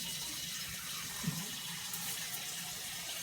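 Water runs steadily into a pot holding two cups of rice while four cups are added, a soft continuous pour with a small splash near the middle.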